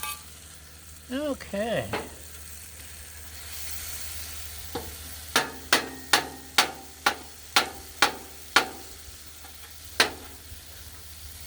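A metal spatula scrapes and taps BBQ jackfruit on a hot griddle under a steady sizzle, with a run of about nine sharp rhythmic clanks after a few brief scrapes, and a voice speaks once briefly.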